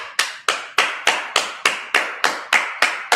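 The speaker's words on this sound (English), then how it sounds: "clap it up" A congregation at a Sabbath service claps together in a steady, even rhythm, about eleven sharp, loud claps in a row with no talking.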